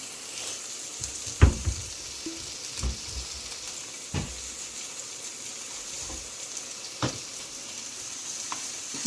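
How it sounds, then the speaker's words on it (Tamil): Onions sauté with salt in a pan for a simple raw plantain poriyal, giving a continuous soft sizzle broken by a few sharp knocks and scrapes of a stirring spoon, up close and without voices. "இப்போ வெங்காயம் வதங்குறதுக்கு கொஞ்சம் உப்பு ஆட் பண்ணிக்கலாம்"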